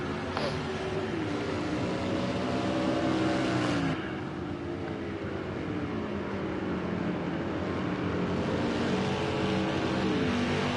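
Race cars in a racing game at a China Grand Prix circuit, with engine tones rising and falling as cars go past, a steady loud drone under commentary.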